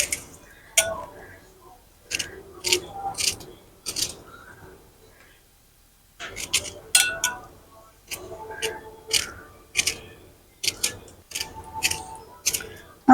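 A knife cuts up strawberries on a board in a home kitchen, making sharp, close clicks and taps in uneven bursts separated by brief pauses.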